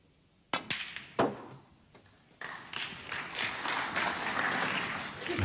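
At a German Masters snooker semi-final, a few sharp claps and cue-ball knocks give way to steady applause from the audience that builds and continues to the end.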